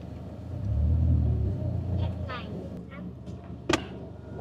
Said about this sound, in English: Look at the sound. All those tuk tuk.